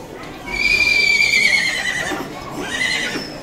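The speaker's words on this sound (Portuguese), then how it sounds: "Opa, relincha alto." A show pony neighs loudly and close by in one long whinny with a shorter follow-up, amid background chatter at an exhibition.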